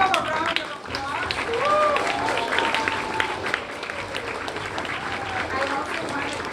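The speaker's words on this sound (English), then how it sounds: "Give them a round of applause." A crowd of students and staff at an astronaut Q&A event in South LA applauds the amateur radio staff from Hughes. The sustained, close clapping is mixed with crowd voices and stays busy throughout.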